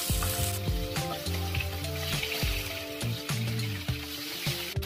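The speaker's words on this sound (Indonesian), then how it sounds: "Airnya sudah habis, kita akan tumis bawangnya." Onions sauté in a pan for butter-sauce shrimp, a steady sizzle under a run of sharp utensil clinks and scraping knocks against the pan, with a tonal hum beneath, no speech.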